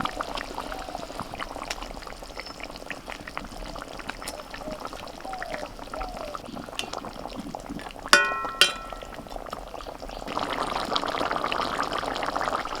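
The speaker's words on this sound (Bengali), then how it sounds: "ঝোলটা ফুটছে, এখন ভাজা মাছগুলো দিয়ে দেবো।" Curry broth bubbling in a pan as fried shol fish pieces are dropped in, a soft steady simmer with a couple of sharp metallic clinks midway and a louder sizzling swell near the end.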